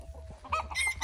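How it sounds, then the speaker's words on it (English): Chickens cluck outdoors on a farm on a spring day, a few short, close calls building into a denser, louder burst at the end, over a low background hum. "Chickens are out."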